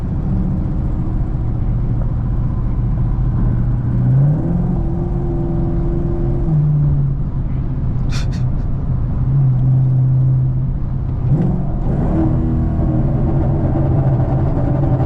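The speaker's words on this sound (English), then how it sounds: "Oh my God, the car sounds so crazy" A Chevrolet Camaro 2SS engine drones and rumbles loud and close from inside the car in traffic, its pitch climbing and dropping in a few rising revs.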